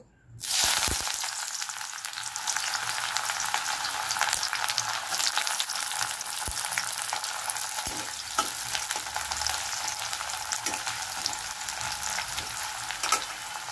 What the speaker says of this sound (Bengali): তেল গরম হয়ে গেছে, এবার আমি পেঁয়াজ কুচি দেবো।